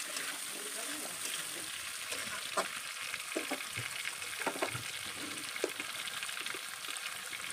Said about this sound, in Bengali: দিয়ে এবার আমি সবজিটাকে ভালো করে নাড়াচাড়া করে নেব